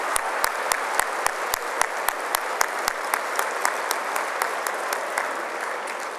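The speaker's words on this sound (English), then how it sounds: "certainly give them a round of applause when we join in welcoming former premiers Bill Davis and Mike Harris" Sustained applause from a large dinner audience welcoming two former Ontario premiers at a party leader's banquet in a Toronto convention centre, dense steady clapping with sharp, evenly spaced camera-like clicks over it.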